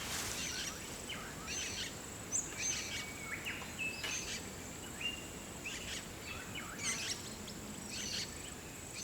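Faint bird calls and chirps sound repeatedly in a quiet Tasmanian forest, with a soft high insect buzz running underneath.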